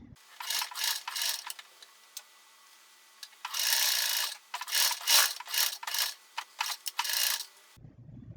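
Domestic sewing machine stitching the lining shoulder seams of a 1950s-style waistcoat, running in several rapid mechanical bursts with short pauses between, close and fairly loud, no talk.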